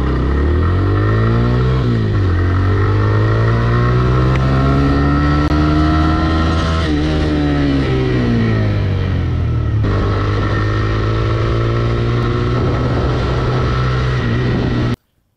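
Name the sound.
TVS Raider 125cc motorcycle accelerating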